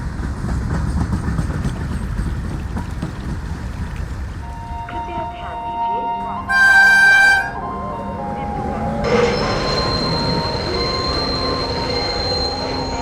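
A train rolls into a station with heavy low rumbling that gives way to loud, sustained wheel and brake squeals, a short high-pitched blast near the middle, and fainter squeals continuing afterward.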